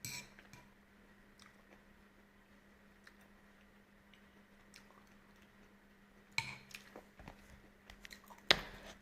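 Soft, crisp crunching bites of rice porridge with smoked ham, liver, lettuce and egg in close, with scattered clicks and louder crunches near the end; no talking.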